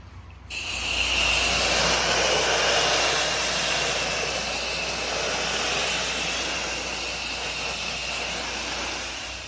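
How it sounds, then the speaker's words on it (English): A pressure washer sprays hard through an X-Jet nozzle at a beehive on dirty aluminum siding, a loud, steady hiss and roar that runs almost unbroken from start to finish. "I'm gonna try to knock that down with the X-Jet"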